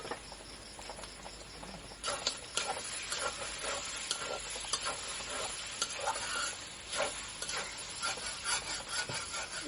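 Beef and chickpea lentil curry being stirred in a covered pan, with a lid lifted between stirs: a steady sizzle under repeated scraping and patting strokes of a spoon against the pan, close and moderately loud, with no talking.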